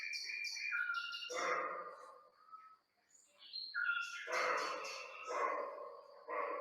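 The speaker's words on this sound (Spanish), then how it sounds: "Un corzo ladrando y el típico juego entre autillos y sapos parteros" At night in a natural park's sierra, a roe deer gives a few hoarse barks among the calls of scops owls and midwife toads, with sharp repeated calls standing out close against a quiet background.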